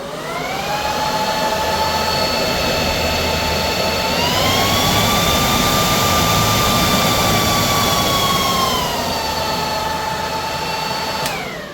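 Cooling fans on an Avtron SLS-10 load bank, used with an Onan DJC generator, roar steadily with a whining tone that steps up in pitch partway through, holds, then drops back, loud and close.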